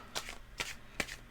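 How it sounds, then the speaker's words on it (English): Tarot cards are shuffled and drawn at close range in three soft, quick riffling bursts about half a second apart. "let's just pull a final card"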